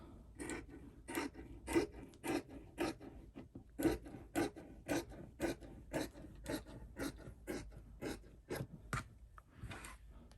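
Scissors cutting and shaping satin fabric for a head scarf brim, a regular run of about twenty crisp snips, close and even-paced, alone without talk.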